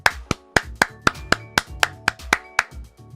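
Slow, evenly spaced claps from a single person, about ten sharp hand claps in a steady rhythm, close and fairly loud, with no voices.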